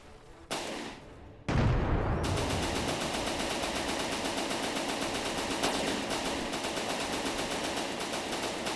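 Rapid, steady bursts of gunfire from batteries of guns in the vehicle-building game From the Depths, a dense rattling volley that starts abruptly and keeps hammering without pause, loud and close with no talk over it.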